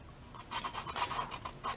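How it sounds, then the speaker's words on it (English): Sandpaper rubbed against a plastic pill bottle gives a dry, rhythmic rasping of quick back-and-forth strokes, close and moderately loud, with no voices. "I take some sandpaper and just sand, not all the way around the bottle"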